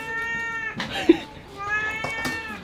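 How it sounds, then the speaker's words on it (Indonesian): A cat meows repeatedly at close range, with a person talking briefly between the calls, beside a stall selling bakpao. "Iya, Bu, kata kucing gitu, Bu."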